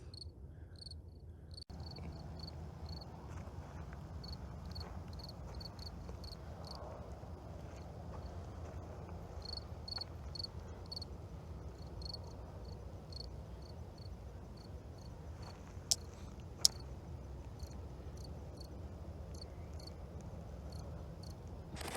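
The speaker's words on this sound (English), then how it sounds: "Now there's crickets." Crickets chirp steadily and faintly in a quiet outdoor night, a continuous high trill with a low background hum and an occasional tap.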